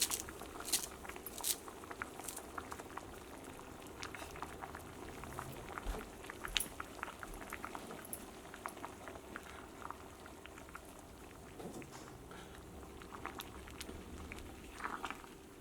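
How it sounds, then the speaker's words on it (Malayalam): A pot of egg and lentil curry bubbles and simmers steadily, with soft popping and gurgling bursts, close by and without any talking. "ഇപ്പോൾ നമ്മുടെ കറി നന്നായിട്ട് തിളച്ചിട്ടുണ്ട്"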